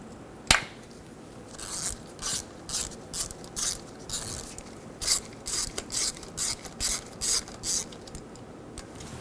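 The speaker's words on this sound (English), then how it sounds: "Using a 10mm socket," A hand ratchet with a 10mm socket backs out the rear vehicle speed sensor bolt on a 2010-2014 Subaru Outback, clicking in steady, evenly spaced bursts of close, crisp pawl rattle over a faint background hiss.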